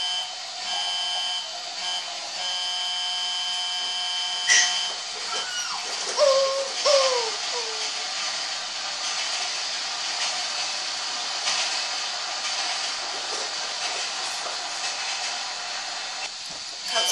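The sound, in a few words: another freight train arriving in Grand Theft Auto 5 video game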